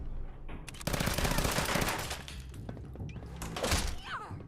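Gunfire in the game Fallout 4 VR, played on an omnidirectional treadmill, comes as a rapid burst of close shots followed by a thud and a second burst, with some background noise.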